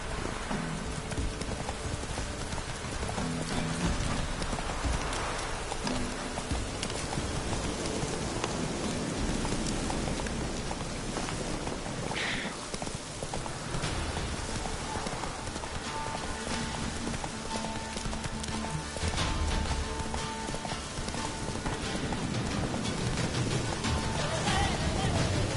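Roach the horse gallops through rain in The Witcher 3, hooves clip-clopping steadily beneath a constant wash of rainfall that fills the whole scene at moderate level.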